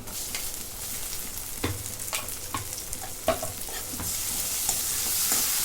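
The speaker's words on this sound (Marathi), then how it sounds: "कांद्याला दोन मिनटं परतून घेते" Onion and tomato sauté in a pan for a spicy potato curry, with a steady sizzle broken by repeated scraping stirs of a spoon, close and without speech.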